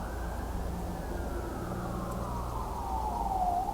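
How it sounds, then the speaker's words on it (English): A distant siren wails faintly, its tone sliding slowly downward over a steady background rumble. "we don't hear sirens very often here at all"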